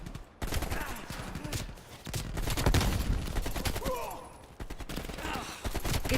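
Video game gunfire from Black Ops Cold War crackles in rapid bursts and scattered shots, fairly quiet and mixed under louder voices talking over it.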